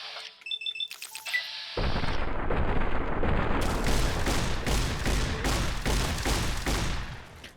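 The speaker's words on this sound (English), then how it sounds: "Why is he shooting the sign?" Gunfire in Fallout: New Vegas bursts in after a few electronic menu-like beeps, becoming a loud, sustained roar of rapid shots and blasts that holds steady before tapering at the end.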